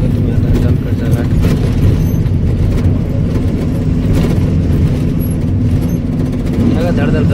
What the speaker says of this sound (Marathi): सगळं धडधड गाडी करते बघ.